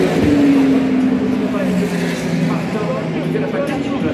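Le Mans endurance race cars during the 2025 24 Hours of Le Mans Hyperpole session pass with a loud engine roar and a falling pitch, under an excited commentator talking throughout.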